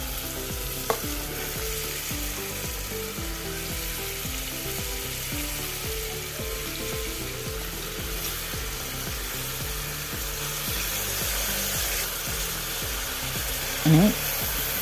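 Vegetables for a paneer masala pulao sizzle steadily in a pan while a spoon stirs them in a regular scraping rhythm, close and continuous throughout, with a sharp clink near the end and no speech.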